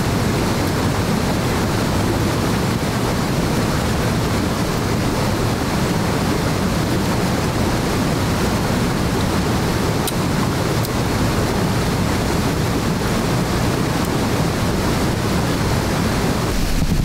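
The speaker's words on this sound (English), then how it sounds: "The beautiful little waterfall just situated inside of Rhydal Hall." A small waterfall in the grounds of Rydal Hall in the Lake District rushes as one constant, even roar of falling water, close and unbroken, with no voices.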